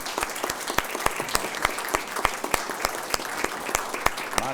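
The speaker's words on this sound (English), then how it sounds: "Kerry, we would like to applaud you for your years of service and your tireless efforts" A council meeting crowd in Gadsden applauds a retiring city employee for years of service, giving steady, moderately close clapping from a room of people with no talk over it.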